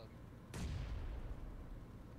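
A grenade explodes in PUBG Mobile with a sudden sharp blast, then a low booming rumble that lingers and slowly fades. It stands alone at moderate loudness against quiet background noise.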